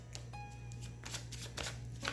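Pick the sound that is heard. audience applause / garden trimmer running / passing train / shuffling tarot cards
shuffling tarot cards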